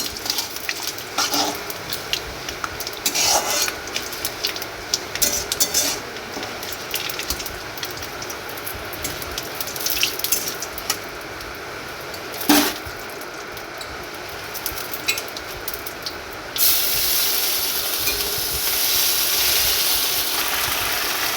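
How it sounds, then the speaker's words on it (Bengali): Ginger paste sizzling as it hits five-spice seeds frying in hot oil, a steady crackling fry with occasional sharper pops and a louder, brighter hiss rising near the end. "পাঁচফোড়ন দেওয়ার পর একটু ভাজা ভাজা হয়ে গেলে এর মধ্যে দিয়ে দেবো আদা বাটা"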